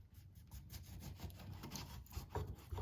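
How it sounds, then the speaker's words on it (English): A knife slices a lemon into thin slices on a cutting board, producing quiet repeated rubbing and scraping strokes with soft taps, faint and close. "Nicely sliced, thin slices."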